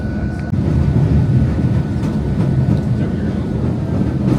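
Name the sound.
airport terminal train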